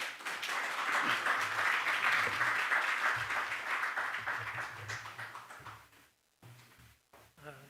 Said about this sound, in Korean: 다시 한번 박수 한번 해드리도록 하겠습니다